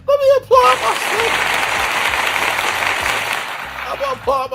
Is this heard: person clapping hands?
yes